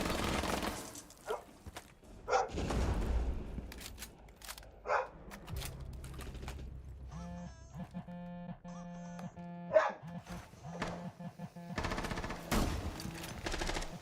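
A dog in a house barks in sharp, loud bursts scattered through the clip, mixed with rapid gunfire-like game sounds and occasional quiet talk.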